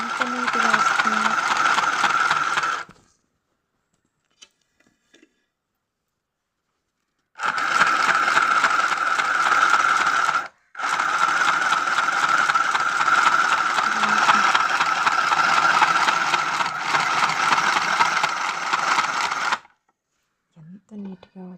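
Mini sewing machine stitching fabric, a steady fast mechanical whirr in long runs, close and fairly loud, stopping for a few seconds of silence before resuming, then halting again near the end.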